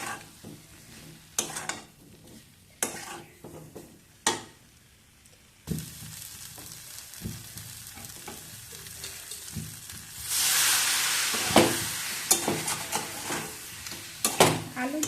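Potatoes frying with spice paste in a pan for dum aloo, steady sizzling broken by repeated scraping stirs and clacks of a spatula against the pan, then a louder surge of hissing as they go in, close up with no talk.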